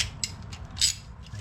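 A ratchet clicks in a few brief bursts, close and fairly quiet, as 19mm bolts are snugged on the rear suspension trailing arms of a Porsche 911.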